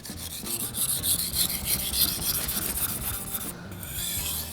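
A kitchen knife scrapes back and forth across a whetstone at low grit in a steady rhythmic rasp, close and fairly loud, with no talking.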